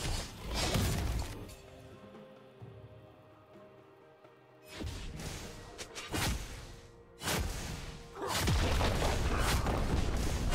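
A turret being destroyed in the game League of Legends, heard as several loud crashing bursts of shattering debris that break in one after another between quieter stretches of low game ambience.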